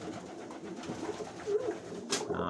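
Pigeons back in their home loft coo low and steadily nearby, a soft rolling murmur, broken near the end by a sharp brief noise like a flap or knock.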